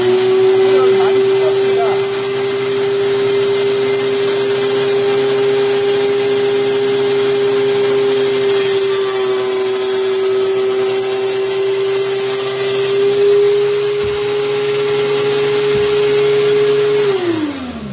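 A DeWalt DW735 thickness planer running steadily while planing wood, a loud, constant motor whine with a harsh cutting roar held close for many seconds, then winding down at the end.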